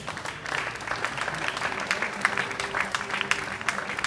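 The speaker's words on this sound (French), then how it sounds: "Est-ce qu'on peut acclamer pour le Seigneur?" A church audience claps and cheers for the Lord, a dense and continuous burst of applause heard close and loud from start to finish.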